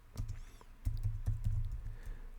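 Keys tapped on a computer keyboard while entering a text note in Revit drafting software, a quick irregular run of close, soft clicks with a few louder strokes, no voices.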